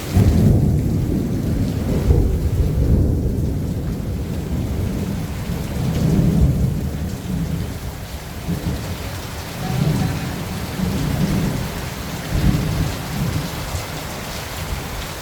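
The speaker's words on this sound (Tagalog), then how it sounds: "Dahil at kumukulog, kumikidlat." Heavy rain pours steadily during a typhoon while deep rumbles of thunder roll through it, loud and continuous for the whole stretch, with no voices.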